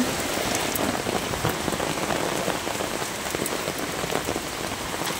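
Heavy rain with hail pours down outside during a storm, a dense, loud, unbroken hiss of drops striking surfaces, heard from a veranda.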